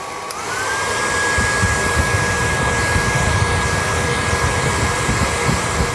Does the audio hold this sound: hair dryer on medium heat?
yes